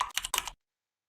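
Quick keystrokes on an EvoFox FK11 computer keyboard, a short close run of clicky taps that stops abruptly into silence.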